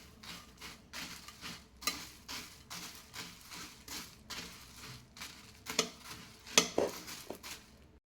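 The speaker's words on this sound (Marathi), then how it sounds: "छान मिक्स करून घेऊ." Bhel ingredients, puffed rice, sev and corn chivda with chili and salt, are tossed and mixed in a bowl, giving soft, regular rustling scrapes about twice a second, close and fairly quiet.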